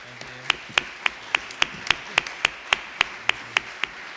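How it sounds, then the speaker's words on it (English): Sparse, evenly spaced single claps ring out one at a time in a quiet room at an art and architecture panel event, sharp and close with near silence between them. "Please give a round of applause to the panel."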